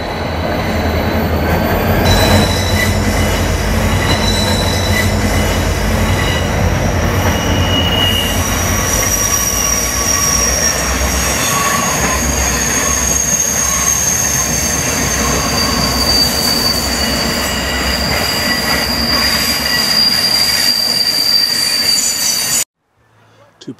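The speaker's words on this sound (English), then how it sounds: "the train runs literally right beside the campground" A train rolls right beside a campground near the water, a loud continuous rumble of railcars with wheel squeal and clatter going on for about twenty seconds before cutting off.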